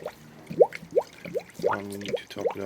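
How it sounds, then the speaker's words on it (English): Air bubbles out of a Toyota Celica Mk6 1.8 cooling system during bleeding, giving a series of about six close, distinct gurgling blips at a loose, irregular rhythm. "As you can tell, the air is escaping"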